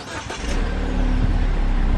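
A Jeep engine cranks and catches, then settles into a steady, loud idle rumble close by.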